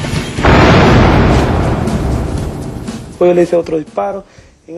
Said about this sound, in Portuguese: Conforme a criatura cruzou o terreiro, Talavera mirou e disparou.